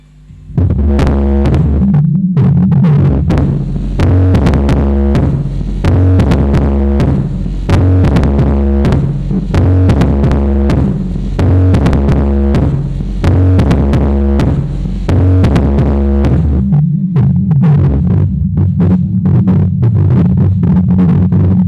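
Subwoofer bass from a large sound system during a sound check, a loud, deep throbbing pulse repeating in a steady rhythm throughout, with faint higher ticks riding on top.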